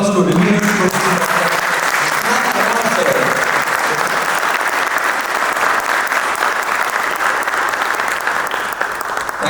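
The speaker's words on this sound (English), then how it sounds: "let's give a huge round of applause to Reverend Professor" A large audience at a science-and-spirituality peace gathering applauds, with loud, dense, sustained clapping that fills the whole stretch and never lets up.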